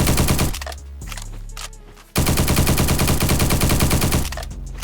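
An assault rifle fires on full auto in the shooter game Bad Business as two long, loud, rapid bursts. A short pause with a softer tail separates them.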